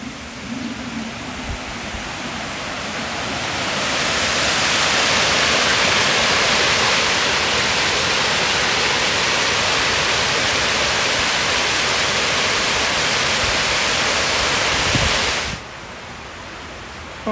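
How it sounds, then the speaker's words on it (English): Harpers Brook in Brigstock, a flooding stream, rushes loudly under a bridge, a steady broadband roar like a waterfall that swells after a few seconds and drops away near the end. "Sounds like a waterfall."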